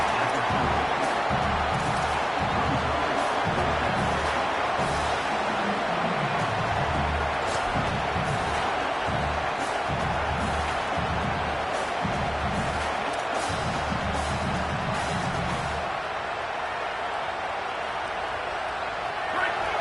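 A college football stadium crowd at Notre Dame versus Alabama roars on fourth down. The loud, continuous din holds for most of the clip, eases near the end, and a voice is heard beneath it.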